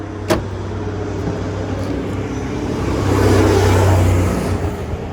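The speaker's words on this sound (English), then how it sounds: "We're right here on the highway, so we do have some background noise" Highway traffic roars steadily at the roadside beside an old Ford pickup, and a car swells past in the middle of the clip before the noise eases back.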